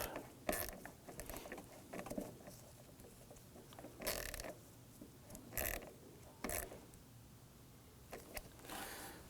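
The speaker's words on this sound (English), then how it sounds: "Let's go ahead and snug down our hose clamp. All right, snug down that clamp." A hose clamp is snugged down on a coolant hose of a 2003-2014 Volvo XC90 3.2L inline six, giving soft intermittent ratcheting clicks and mechanical rattles over a low background, close and without speech.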